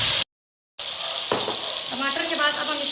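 Tomatoes drop into onions frying in oil for a prawn masala, giving a steady loud sizzle with a short dropout early on, then a burst of crackle as they land and continued frying.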